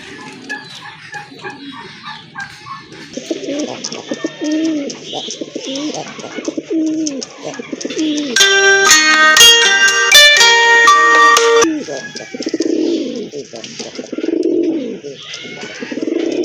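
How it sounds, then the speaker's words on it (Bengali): A pair of large pigeons at a pigeon seller's place coo in repeated low, rolling phrases, close and clear. A loud, bright tonal burst briefly cuts across them midway before the cooing continues. "দেখেন আরেক জোড়া বড় পায়রা"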